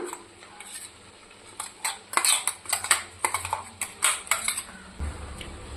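Boiled tapioca being mixed with a spice paste in a pot, with a spoon clinking and scraping against the metal in quick, irregular strokes, close and fairly loud, with no voices.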